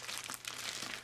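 Small cheap scissors snip and crinkle through the plastic packaging of a boxed designer flap bag, a close, continuous rustling crunch lasting about a second.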